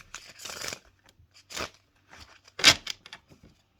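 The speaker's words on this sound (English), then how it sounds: "All right, we're going to shuffle the cards." A tarot deck is shuffled by hand in several separate riffling bursts with short quiet gaps between them, close and crisp, the loudest burst coming near the end.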